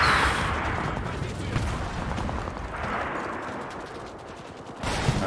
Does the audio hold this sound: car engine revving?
no